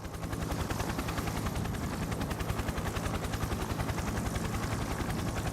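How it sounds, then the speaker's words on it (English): A helicopter in the video game Persona 4 Arena Ultimax thunders with a loud, steady rapid chopping of its rotor blades throughout, close and continuous with no speech. "What's the helicopter doing here?"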